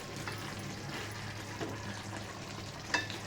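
A spoon stirs a simmering Bhogi vegetable mix in a pan, a soft continuous bubbling sizzle with faint scraping and one brief metallic clink near the end.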